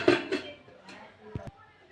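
A metal cake pan is set down into a pot lined with salt and a stand, with a couple of light clanks followed by two sharper knocks as the lid goes on, close and fairly soft.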